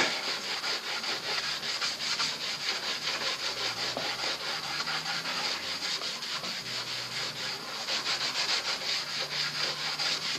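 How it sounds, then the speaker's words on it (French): Steady rubbing of wax onto a wooden cabinet, a continuous scratchy back-and-forth friction with a repeating rhythm, close and fairly quiet, with no voices. "Et on frotte."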